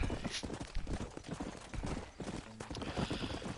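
Horse hooves clip-clop over a track in the video game Red Dead Redemption, a fast, busy patter of several hoofbeats with no voices over it.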